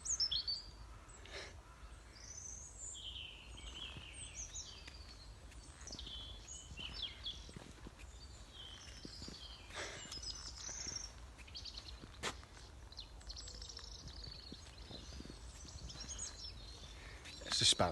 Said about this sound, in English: It's that wonderful time of day when all the birds are starting to sing.